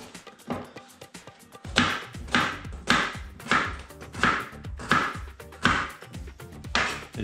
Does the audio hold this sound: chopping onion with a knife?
yes